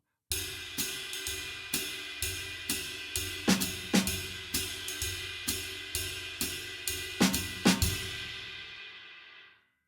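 A drum kit plays a steady swinging big band ride pattern with cymbal wash, punctuated by a few sharper snare hits on beats 3 and 4, close and alone.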